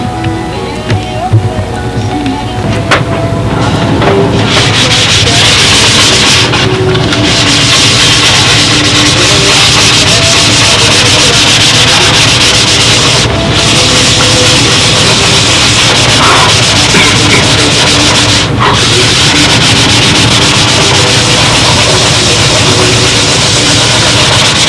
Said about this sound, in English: This talc is sanding off real nice because I've let it dry 2 days.